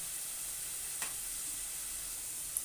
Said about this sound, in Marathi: आता हे आपण ना तेलामध्ये असं परतून घ्यायचं कांदा चांगला भाजून घ्यायचा आहे